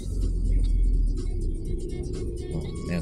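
Steady low road rumble of traffic, heard from inside a car crawling through BGC, Taguig, with passing vehicles murmuring throughout.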